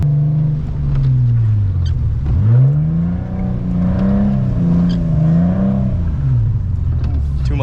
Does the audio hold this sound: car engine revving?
yes